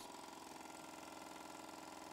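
A small Mamod model steam traction engine running at low boiler pressure, giving a steady, even mechanical chuffing hum that holds constant throughout at moderate volume with no talk.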